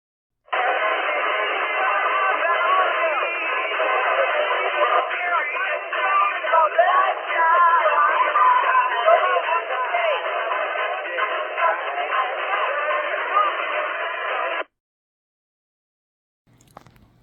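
Loud, dense concert crowd and music noise, band-limited and tinny as heard through an analog radio microphone and speaker, runs steadily for about fourteen seconds, then stops abruptly.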